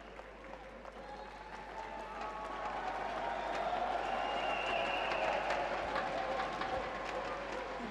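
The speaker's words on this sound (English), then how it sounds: "Crowd getting behind Odkhuu here." A judo crowd applauds and cheers for Odkhuu at the Grand Prix final in Ulaanbaatar, a dense, continuous roar of clapping and voices that swells louder partway through and holds.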